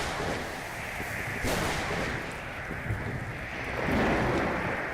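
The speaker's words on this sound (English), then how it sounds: "Acid rain, thunderstorm as well." Acid rain and a thunderstorm in a Roblox game: a loud, steady wash of rain noise with heavy rumbling thunder bursts around the middle and near the end, no talk.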